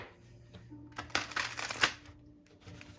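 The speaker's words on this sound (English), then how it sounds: "Shuffle these guys a couple of times" A deck of tarot cards being shuffled up close, a quick riffle of crisp flapping card noise building to a louder burst in the middle, then fading to a few softer shuffles.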